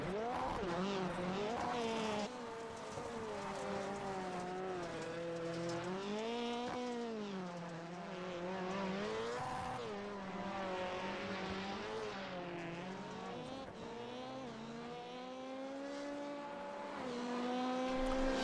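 Rallycross race cars at Lucas Oil Raceway, including an orange Beetle, roaring around the track with rising and falling engine whine, loud and sustained, under an announcer's continuous commentary.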